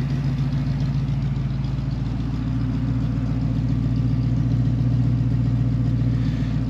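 A 1966 Ford Mustang coupe with the 289 V8, warmed up, idles steadily nearby with a deep, even, throbbing exhaust rumble and no voices over it.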